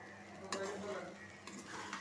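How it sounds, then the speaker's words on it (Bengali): Noodles mixed with egg are stirred in a small wok, a spatula scraping and tossing over a continuous light sizzle, with a couple of sharper scrapes standing out. "এখন ভালো করে ডিমের সাথে মিশিয়ে নিই নুডলসটা।"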